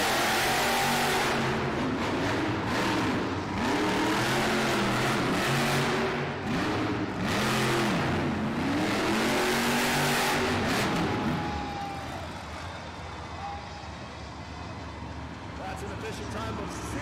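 Toro Loco monster truck roaring through a Monster Jam arena run, its engine revving repeatedly in rising and falling surges under an announcer's voice and crowd noise, then easing to a lower rumble.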